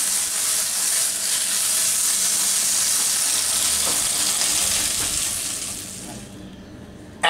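Chicken pieces frying in oil in a pan for Chinese street-style chicken fried rice, a loud steady sizzle that runs unbroken and close, then fades out near the end with a brief clatter.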